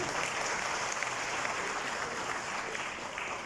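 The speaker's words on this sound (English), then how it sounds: "I'll ask you for a round of applause for those sponsors" Steady applause from a large crowd at the Mauritius Bar Association Conference 2024 fills the space, a dense, even wash of clapping that holds throughout before easing slightly at the end.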